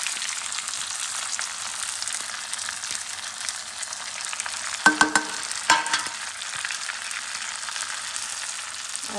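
Masala sautéing in a hot pan, a steady soft sizzle with a few sharp scraping stirs and clinks of a spatula partway through, no talking.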